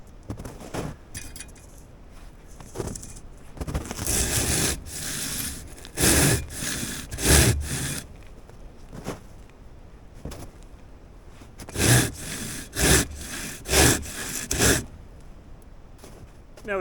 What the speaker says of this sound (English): Just a light pull and that thing slices. All right, I'll do my cross cut and let this fall.